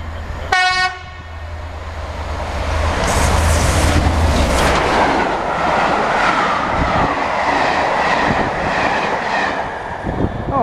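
A train horn blasts briefly, then a small passenger train unit on the Nuneaton–Coventry line rumbles past close by with rhythmic wheel clatter and some squeal.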